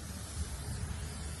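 A can of cooking oil sprays onto a smoker grill as it is seasoned, giving a steady, close hiss that runs for about a second and a half without pause.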